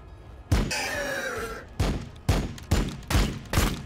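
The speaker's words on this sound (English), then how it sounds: "Much better shooting this time." Gunfire from Warhammer 40,000: Battlesector, a strategy video game, comes as a heavy opening blast and then a run of five loud, evenly spaced shots, close and punchy, with no talk over them.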